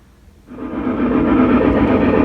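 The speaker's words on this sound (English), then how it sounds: "now it's time to run some trains" A small N scale model train, an MRC/Rowa 2-8-8-2 locomotive, starts up after a moment of quiet, then runs steadily with a continuous rolling whir and rattle, close and fairly loud.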